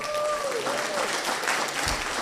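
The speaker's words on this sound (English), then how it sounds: "Give yourselves a big round of applause." Town hall meeting audience applauding, a dense continuous wash of clapping from the crowd for a couple of seconds.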